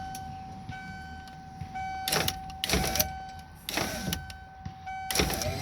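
A converted electric power window motor in a car spins on a stripped sheet metal screw, whining in repeated bursts along with thumps and clunks from the loose mechanism, close and moderately loud.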